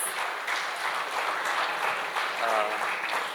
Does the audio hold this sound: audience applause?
yes